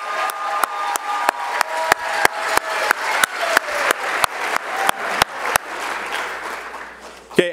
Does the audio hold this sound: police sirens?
no